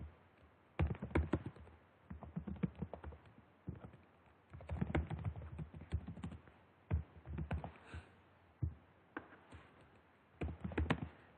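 Typing on a computer keyboard to enter details into a web contact form, a quiet run of irregular key taps in bursts with short pauses between.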